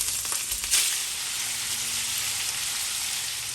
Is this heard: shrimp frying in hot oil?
yes